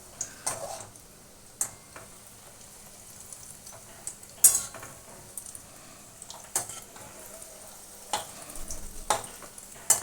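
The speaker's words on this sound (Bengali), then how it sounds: "এইভাবে একটুখানি নেড়ে চেড়ে হালকা হাতে চপগুলো ভেজে নেব" Rohu fish chops fry gently in oil while being turned, a low steady sizzle broken by sharp intermittent clinks and scrapes of a utensil against the pan, close by with no talking.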